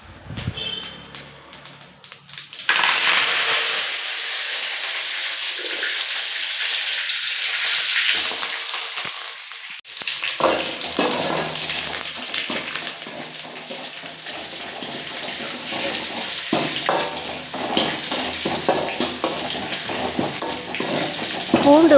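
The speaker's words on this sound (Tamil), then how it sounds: "எண்ணெய் போட்டு கருவேப்பிலை போட்டு கடுகு பொரிஞ்சதுக்கப்புறம் வெங்காயம்," Onions frying in hot oil with curry leaves and mustard seeds for a bitter gourd curry, a loud continuous sizzling hiss that swells after a quiet start and holds steady, up close with no talking.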